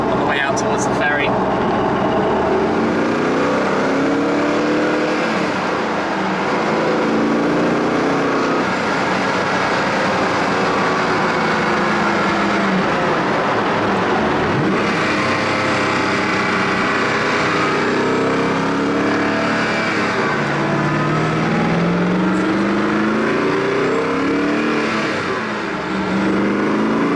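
A Koenigsegg CCR Revo fitted with the CCR engine drives along a motorway, its loud, close engine droning continuously with rising and falling revs throughout, and a voice talks over it at times.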